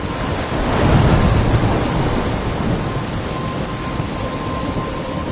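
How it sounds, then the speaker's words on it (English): Thunderstorm in the Life is Strange video game: steady heavy rain with a rolling thunder swell early on, continuous and enveloping, no voices. "I'm trapped in a storm?"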